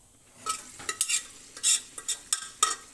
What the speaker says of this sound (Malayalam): വാട്ടിയ ഉള്ളിലേക്ക് നമ്മൾ വെന്ത ബീഫ് ഇട്ട് കൊടുക്കുക.